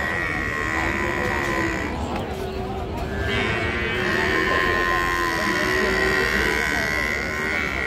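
Buffalo at a busy rural livestock market in Bangladesh give long, low drawn-out moos that stand out over a dense background of crowd chatter and voices talking nearby.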